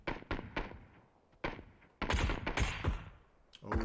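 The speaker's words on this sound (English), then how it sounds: "Taking some careful shots because he knows he's up against a bolt action." Gunfire in the PUBG esports match, with a careful sequence of rifle shots sounding as sharp separate cracks and then a denser burst of loud shots that echo, all without speech.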